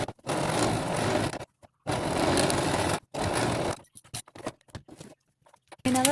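A sewing machine stitches felt binding pieces together in bursts of steady whirring, each run lasting about a second and a half and stopping in between, followed by a scatter of light handling clicks and rustles.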